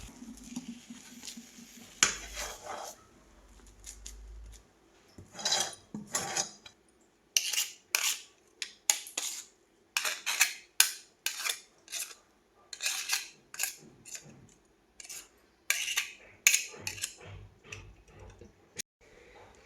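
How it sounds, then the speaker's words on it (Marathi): Hot amla candy mixture is pressed and patted onto a plate, giving a string of short metallic taps and scrapes in irregular bursts, close and fairly quiet, with a faint voice in the background. "आता आहे ना मी ना हे थापून घेते ताटावरती."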